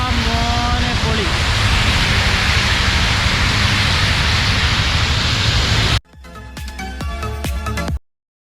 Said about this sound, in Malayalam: നല്ല കിടക്കാച്ചി മഴ